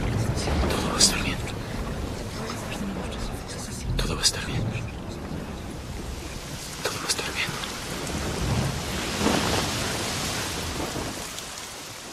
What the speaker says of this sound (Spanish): Gracias a Dios, la tormenta nos perdonó la vida.